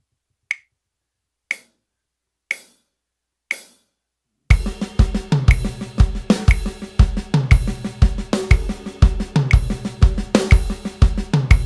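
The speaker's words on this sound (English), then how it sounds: "you can just do like a rim shot on the snare" Four evenly spaced sticks clicks count in before a loud drum kit beat kicks in, with cracking snare rim shots punctuating the steady groove.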